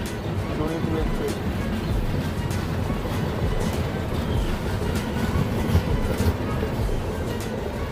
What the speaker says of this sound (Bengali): হারমতি রেলওয়ে স্টেশনের 2 নম্বর প্ল্যাটফর্ম থেকে ডিপার্চার নিল ডোনিপোলো এক্সপ্রেস।